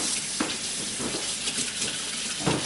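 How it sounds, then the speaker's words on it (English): Tap water runs steadily into a kitchen sink while hands are washed during cinnamon bun dough making, a continuous close hiss with a few brief splashy bursts. "Always, constantly washing hands."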